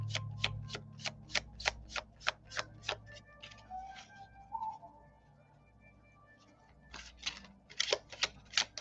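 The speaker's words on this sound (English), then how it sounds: "Wow, Jamie, I'm shuffling like a pro." Tarot cards being shuffled make a quick run of crisp, evenly spaced riffling snaps, then a quieter stretch with faint rustling before another brisk burst of card flicks.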